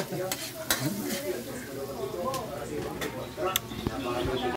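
Kaldereta with mussels sizzles in a pan while a utensil stirs and scrapes it, sharp clinks over a steady frying hiss, with people talking nearby.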